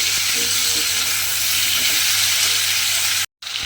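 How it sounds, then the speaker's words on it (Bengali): Potatoes cook down in spices in a pan, a loud, close, continuous frying hiss with faint stirring underneath that cuts out abruptly near the end before briefly resuming. "মশলার মধ্যে আলুগুলো দিয়ে খুব ভালোভাবে আমি কষিয়ে নিয়েছি"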